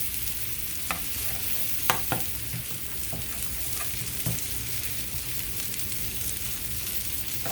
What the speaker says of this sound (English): And just stir this together.